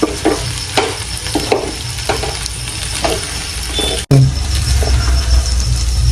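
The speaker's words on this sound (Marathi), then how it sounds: "एक दोन मिनटं आपण व्यवस्थित परतून घेऊ" Okra (bhindi) with coriander being stir-fried in a pan, a loud close sizzle with rhythmic spatula strokes scraping the pan, briefly cut before resuming.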